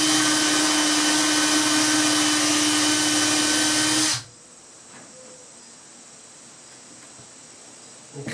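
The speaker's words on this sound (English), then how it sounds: "Now the drill, the clearance hole for the screw." A loud, high-pitched power drill boring a screw clearance hole during a window installation whines steadily for about four seconds, then cuts off abruptly, leaving faint room noise.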